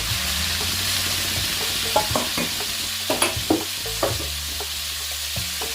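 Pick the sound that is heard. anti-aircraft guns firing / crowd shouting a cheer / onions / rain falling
onions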